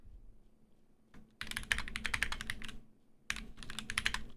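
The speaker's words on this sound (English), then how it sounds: "Don't judge my typing, by the way." Typing on a computer keyboard, with two bursts of rapid, irregular clicking keystrokes separated by a short pause, close and clear with no talking.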